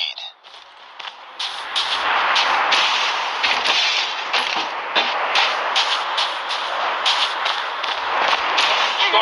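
Sniper rifle gunfire in the mobile shooter Call of Duty Mobile, snipers-only match on the Summit map: repeated sharp shot cracks over a dense, continuous bed of game sound effects and music, loud and busy throughout.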